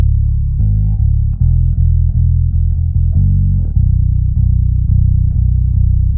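A Darkglass KAAMOS bass octave pedal in sub-C-tree polyphonic mode, deep sub-octave tone beneath a bass line of steady plucked notes and a few held ones, loud and close, alone.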